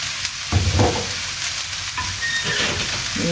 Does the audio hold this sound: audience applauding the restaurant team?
no